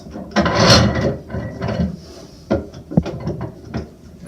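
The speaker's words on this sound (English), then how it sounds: "Now I'm going to stick this in my vise." A small wooden box piece is clamped in a bench vise, with ratcheting, creaking mechanical turns and knocks of wood against metal, close and fairly loud in uneven bursts.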